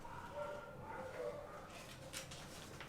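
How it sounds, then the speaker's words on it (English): Several dogs bark in the distance, faint and scattered, over a steady background hum, during a power outage with someone singing karaoke nearby. "you hear all them dogs barking?"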